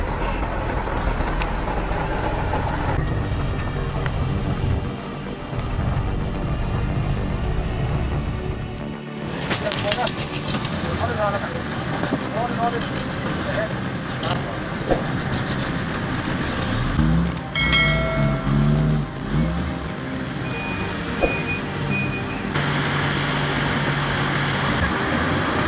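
A heavy truck laden with acacia wood labours in deep mud, its engine roaring and straining continuously at close range, with shifting rumbles and a few clunks along the way.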